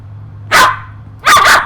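A puppy in a room barks twice, loud and close, with the two sharp barks spaced about a second apart over a low steady hum.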